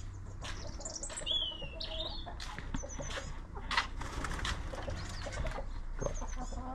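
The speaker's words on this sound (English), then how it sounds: "I've got chickens here." Chickens clucking in a back garden with a rooster nearby, soft intermittent clucks and short chirps over a low steady background, fairly quiet and close.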